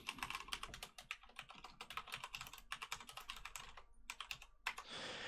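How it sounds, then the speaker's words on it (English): Fast, steady tapping on a computer keyboard while writing Ruby code, close and quiet, with a brief pause near the end. "If I can type."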